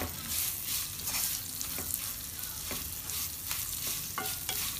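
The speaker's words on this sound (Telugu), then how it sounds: "వేడికి బెండకాయ ముక్కలు పట్టేసుకుంటుంది ఒకసారి బాగా కలుపుకుందాం" Okra pieces sizzle in a hot pan while being stirred, the steady frying hiss broken by repeated scraping strokes of a spatula at a moderate, close level.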